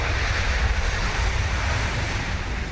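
A C-17 transport plane with its jet engines roaring steadily and loudly, a broad rumbling wash of noise with no breaks and no voices.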